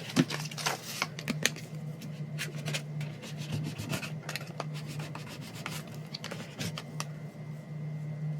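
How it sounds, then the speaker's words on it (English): A craft scraper pushed and rubbed across paper in a journal, giving repeated short scraping strokes close up, irregular in rhythm, over a faint steady background hum, with no talking. "Let me get my craft scraper so I can push it in a little bit more easily."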